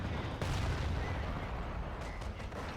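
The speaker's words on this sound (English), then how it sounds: "And MG-131 on this half-track being used." An MG-131 machine gun fires from a half-track in Company of Heroes with the Eastern Front mod, a dense, steady rattle of battle noise that stays loud and continuous throughout.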